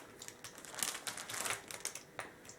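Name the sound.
crinkling plastic protein casing for smoked sausage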